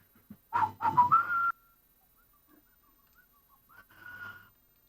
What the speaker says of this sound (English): Someone's whistling.